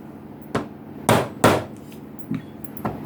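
Hammer blows driving a tapered rivet down onto a washer while fitting a knife handle: five sharp metallic strikes, loud and close, unevenly spaced with short pauses between.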